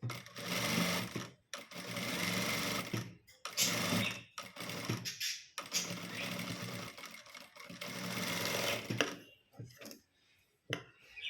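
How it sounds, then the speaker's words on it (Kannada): A sewing machine runs in loud, close bursts while stitching over an old blouse being remade with lining fabric. The whirring runs stop and start with short pauses between them and trail off near the end. "ಆ ರೀತಿ ನಾವಿಲ್ಲಿ ಸ್ಟಿಚ್ಚನ್ನ ಇದ್ರ ಮೇಲೆ ಒಂದು ಸ್ಟಿಚ್ಚನ್ನ ಹಾಕ್ಕೋಬೇಕು."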